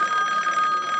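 An office telephone rings in a police station, a steady bright electronic trill, close and loud, with no talk over it.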